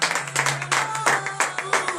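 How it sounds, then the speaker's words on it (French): Rhythmic clapping during a morning prayer service in Benin, regular claps in a steady beat with congregation voices and sustained tones underneath. "Donnez de vive acclamation à l'Éternel"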